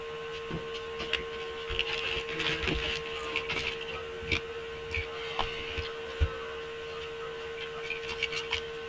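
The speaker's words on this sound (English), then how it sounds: "I'm gonna use my printer." A home printer runs under a steady electrical hum, its feed mechanism making irregular clicks, scratches and soft thumps at a moderate, close distance, with no talk.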